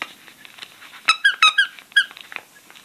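Small plastic toy books squeak when pressed, giving a quick cluster of four or five shrill chirps close by, with faint handling noise before and after.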